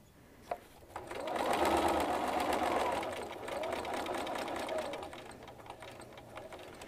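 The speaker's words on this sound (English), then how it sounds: "Just going on top of the previous stitches so that I don't have to back stitch." A sewing machine runs steadily while stitching a turn-up cuff on fairly firm fabric, giving a soft, fast, even whirring hum with a brief click at the start. It is fairly quiet and close, and there is no speech.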